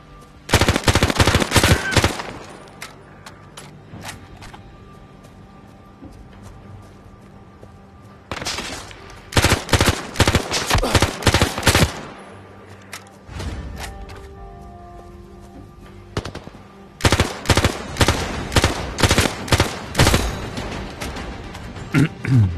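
In the VR shooter Zero Caliber Reloaded, played standalone on a Pico 4 headset, loud bursts of rapid automatic gunfire come in three long volleys, separated by quieter gaps with scattered single shots and background game sounds.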